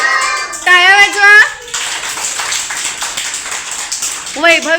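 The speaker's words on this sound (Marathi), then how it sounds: "टाळ्या वाजवा." Children clap together at a fifth birthday celebration, a dense stretch of applause between bursts of young voices singing and shouting.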